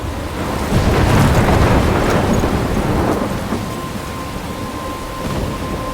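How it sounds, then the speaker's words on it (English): Thunderstorm with steady rain in the Life is Strange video game: a loud, broad rumble of thunder swells in the first seconds and fades into continuous rainfall, with no talking. "I'm trapped in a storm?"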